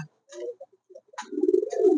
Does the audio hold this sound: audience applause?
no